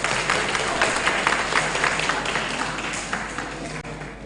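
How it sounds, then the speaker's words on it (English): An audience at a traditional medicine day event gives sustained applause, a dense patter of many hands that slowly thins toward the end. "Clap for me now."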